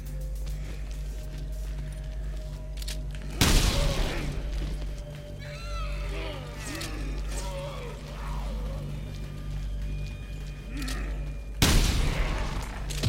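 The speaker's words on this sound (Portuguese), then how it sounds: "É uma shotgun, velho." Two loud shotgun blasts go off about eight seconds apart in Resident Evil: Revelations 2, each with a booming tail, over steady game ambience and scattered smaller effects.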